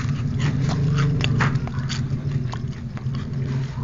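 Crunchy bites and chewing into hot, freshly fried, thick but crispy Indonesian gorengan fritters, close to the microphone, a run of crackly crunches over a steady low background.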